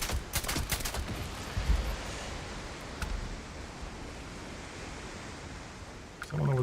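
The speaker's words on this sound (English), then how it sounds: "Preemptive critter shooting" A rapid burst of gunfire rattles out at the start as a player shoots at critters in Starfield, a space game. It is followed by a few isolated shots and then a steady, wash-like ambient rumble.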